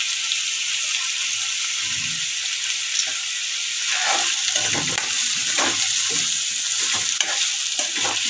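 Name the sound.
tomato cooking in a pan with salt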